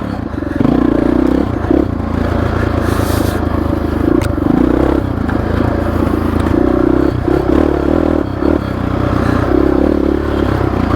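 A Honda XR650R dirt bike ridden on trail, its engine a steady loud drone for the whole stretch with small surges in pitch and rough clattering over the ground.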